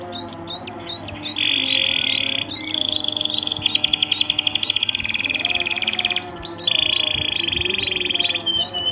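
A pet munia (emprit) being hand-fed, giving rapid, repeated high chirps and trills close by, with bursts of a steady tonal call and faint background noise.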